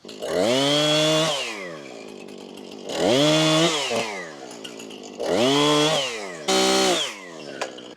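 A chainsaw cutting a log for milling into boards revs hard in three long bursts with a shorter fourth, the engine whining up and dropping back between cuts, loud and close.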